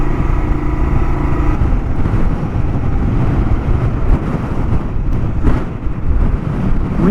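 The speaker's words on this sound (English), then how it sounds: "Look at this wind." Strong wind buffeting the microphone while riding a Kawasaki KLR-650 motorcycle on an outback road near Woomera, South Australia, a loud continuous roar with engine drone underneath and no talk.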